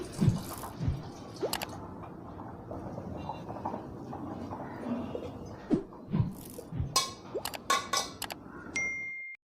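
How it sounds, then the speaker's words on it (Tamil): Water is poured into a pan of keerai greens seasoned with cumin and turmeric, set to boil. A soft running wash sits under scattered metallic clinks and drips, with sharper dings toward the end and no talk. "தண்ணி ஊற்றிக்கிறோங்க வேக வைக்கிறதுக்கு"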